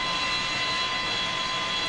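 Steady, loud jet engine roar and whine from a FlyJSim 727 in Lufthansa livery in the X-Plane flight simulator, holding constant throughout without voices.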